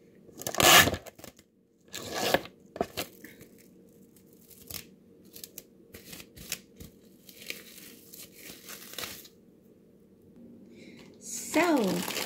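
Fresh cut meat is packed into plastic freezer bags: close crinkling, rustling and tearing of plastic in irregular bursts, with a quieter steady hum in the background and a final louder crumple.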